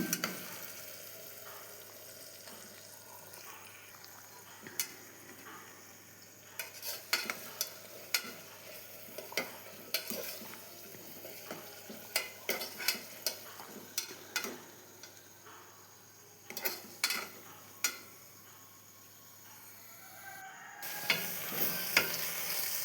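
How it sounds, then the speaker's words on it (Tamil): Ginger garlic paste sizzles steadily in a hot pan while a spatula scrapes and taps the metal in irregular clinks, close up, with no talking. "இஞ்சி பூண்டு பேஸ்ட்டை சேர்த்துக்க போகிறோம் அதையும் சேர்த்து நல்லா வதக்கி விட்டுருங்க"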